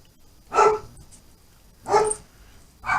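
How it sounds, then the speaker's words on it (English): Dogs bark in three separate bursts spaced about a second apart, moderately close and loud over a quiet background, with no talking. "Oh, there go the dogs."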